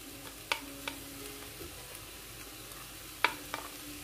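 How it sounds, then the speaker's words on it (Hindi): White onion hits hot tuna in a pan, producing a soft continuous sizzle punctuated by a few sharp clinks and scrapes of stirring, fairly quiet and close, with no speech. "अब ये हम लोगों की ये टूना गर्म हो गई है, अब मैं इसमें ये ऑनियन ऐड कर रही हूँ।"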